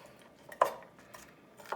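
Knife chops vegetables on a board in a kitchen while making a sausage and peppers skillet, giving a few sparse, close taps and knocks with quiet pauses between.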